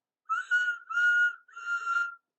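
Thomas the Tank Engine, a small steam tank engine on a branch line running alongside a road, sounds his whistle in three distinct toots, the first two close together, clear and alone.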